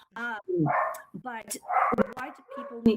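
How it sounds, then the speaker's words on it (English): Dogs bark indoors, several loud barks and yips close by that overlap with a person talking. "And I apologize for my dogs if you can hear them."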